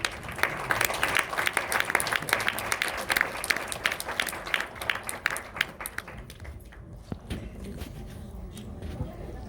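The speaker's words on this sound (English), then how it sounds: "Please give her a big hand." An audience at a women's awards ceremony gives a performer a round of brisk, sustained applause that stays loud for several seconds and then gradually thins into scattered claps.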